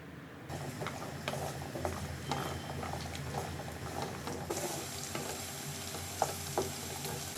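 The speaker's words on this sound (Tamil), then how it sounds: "இது கூட 1 கப் பூண்டு சேர்த்து இதையும் எண்ணெயில் நல்லா வதக்கிக்கோங்க" Garlic frying in oil in a pan for a garlic chilli chutney, a soft continuous sizzle with scattered small crackles and pops, fairly quiet and steady with no voices.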